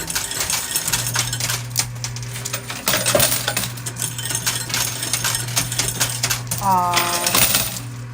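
Quarters clatter and drop inside a coin pusher machine, with metallic jangling throughout under a steady machine hum and a few voices.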